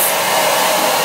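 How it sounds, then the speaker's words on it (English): A hair dryer on a low, warm setting blows a steady, loud, continuous whoosh throughout, up close, with no pauses and no voices. "I blow dry my hair"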